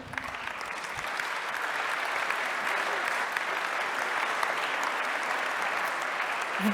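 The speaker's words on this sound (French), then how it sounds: "Vous pouvez l'applaudir" Steady, dense applause from an audience at a cycling-cities awards ceremony, sustained evenly throughout with no voices on top.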